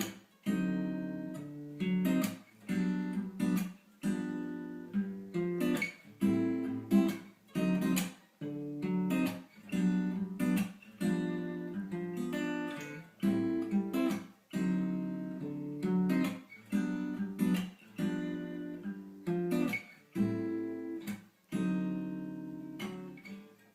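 Strummed guitar chords of a song, a steady rhythmic pattern of repeated strokes played alone and close, fairly loud with no voices.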